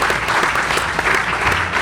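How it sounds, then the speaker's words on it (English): An audience claps for a man honored at a San Francisco Fleet Week ten-year anniversary celebration, with steady dense applause filling the room and no voices above it. "give that man a round of applause for his efforts to do so"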